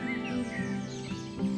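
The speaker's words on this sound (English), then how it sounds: "The dusk chorus is coming." Birds call and chirp softly in a wood at dusk, several thin tweets overlapping against a quiet background.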